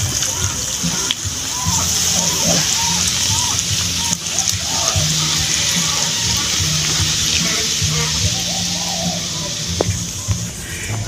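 Beer is poured into pork pata cooking in a pot: a steady liquid pour and sloshing splash runs for about eleven seconds, fairly loud and continuous, with faint sizzling beneath and people talking in the background.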